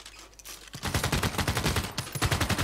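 Machine gun fire from the strategy video game Civilization 6 rattles in rapid, evenly spaced bursts, loud and close, following a brief quieter stretch of game ambience.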